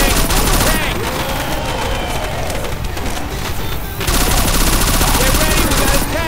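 Rapid bursts of gunfire from a Left 4 Dead 2 tank fight, dense and loud throughout with a brief dip in the middle, mixed with game effects and players talking over it.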